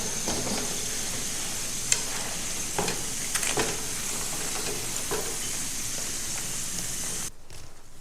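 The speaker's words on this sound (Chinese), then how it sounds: "我们的第2锅也已经炸至8面金黄了，现在来出锅" Crispy pork strips (xiaosurou) deep-frying in hot oil give a steady, close, hissing sizzle with a few light clinks and stirs, running continuously before cutting off abruptly near the end.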